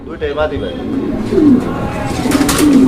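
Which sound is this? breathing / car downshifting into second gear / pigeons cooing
pigeons cooing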